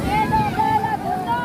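Strong waves on the water at a family picnic spot, a rough rushing surge mixed with heavy wind buffeting the microphone and a tonal hum running throughout.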